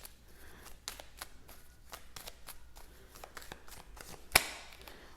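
Tarot cards are shuffled and drawn at a reading table, giving a run of soft, crisp riffling flicks that are fairly close and quiet, with one sharper snap near the end as a card is pulled.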